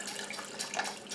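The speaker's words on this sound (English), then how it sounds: "Okay, I'm going to put white vinegar in here." White vinegar splashes briefly into a home canner, a short close liquid pour lasting only about a second.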